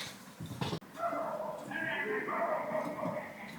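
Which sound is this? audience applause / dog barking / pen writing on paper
dog barking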